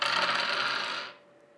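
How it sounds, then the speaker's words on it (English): Dice rattle and tumble across a surface in one continuous clattering roll of about a second before settling, close and alone with no voices. "And let's roll the dice."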